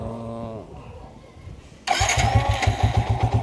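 A motorcycle engine with a suspected faulty regulator/rectifier and battery cranks and catches after a quiet stretch, then settles into a loud, steady, chugging idle close by.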